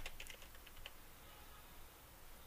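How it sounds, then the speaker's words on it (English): A short, faint run of key clicks on a computer keyboard while entering login details, a few quick taps at the start and then quiet room noise. "You'll need to type in your email address and your PayPal password."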